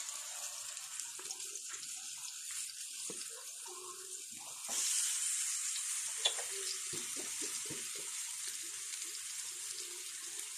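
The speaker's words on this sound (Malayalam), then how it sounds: "എണ്ണ ചൂടാകുമ്പോഴത്തേക്ക് നമുക്ക് ഇത് ഓരോന്നും എടുത്തങ്ങോട്ട് വെക്കാം" Brinjal slices shallow frying in coconut oil produce a faint, steady hiss that grows a little louder partway through, with soft clicks and quiet kitchen movement beneath.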